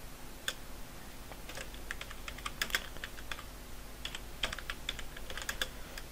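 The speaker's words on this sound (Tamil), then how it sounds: "சோ இப்போ பாருங்க டைப் பண்றேன்." Typing on a computer keyboard, a faint, irregular patter of key clicks arriving in short bursts and single taps over quiet room background, with no talk.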